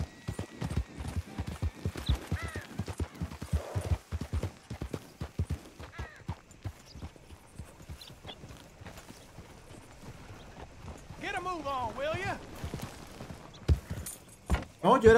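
A horse's hooves clip-clop in Red Dead Redemption 2, the in-game footfalls starting quick and close, then thinning to sparse steps, with someone talking over them and a horse whinnying near the end.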